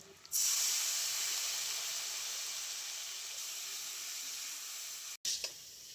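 Water splashes into a hot pan of fried spices and turmeric for a rui fish curry with pui greens, bursting into a loud, steady hiss and sizzle that runs for several seconds before briefly cutting off near the end.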